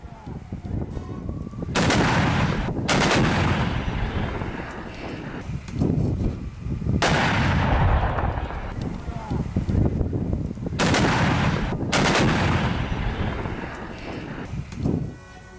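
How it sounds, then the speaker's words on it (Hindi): Tank fire on positions during the Russia–Ukraine war, a series of heavy booming blasts at irregular intervals, roughly five or six loud reports with rumbling tails over steady background noise. "टैंक से यूक्रेन के ठिकानों पर फायरिंग की गई"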